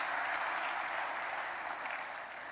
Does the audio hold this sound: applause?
yes